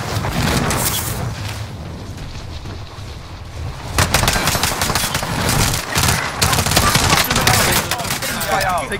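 Enemy gunfire in Warzone, dense rapid automatic bursts and crackling volleys that grow louder and closer after a few seconds, continuing in sharp repeated strings.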